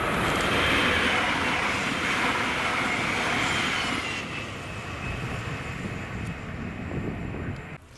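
Class 397 unit 397001 running a TransPennine Express service from Glasgow Central sweeps through Carstairs station, a loud, close rushing roar of wheels and motors that fades into a lower rumble as it recedes.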